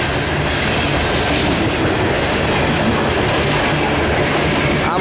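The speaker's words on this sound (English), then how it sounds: "Looks like another coal train to Marshall," A loaded CSX coal train headed for Marshall rolls past close by, a steady loud roar of wheels and rail clatter.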